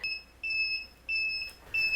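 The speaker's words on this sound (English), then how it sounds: "When I close this to heat it up, my timer is going to start, so you are going to hear a couple beeps" A heat press timer gives a series of clear electronic beeps, high steady tones in repeating on-off pulses with short gaps, close and alone in a quiet room.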